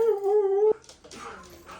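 A dog being left at a doggy daycare hotel lets out a long, steady howl-like whine, loud and close, that breaks off abruptly, followed by faint whimpers and background noise.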